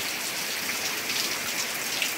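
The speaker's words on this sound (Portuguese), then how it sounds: "e a chuva tá aí, ó, continuando." Steady rain falling in the Brazilian Northeast sertão, a constant dense hiss of drops on surfaces with no pauses, close and even throughout.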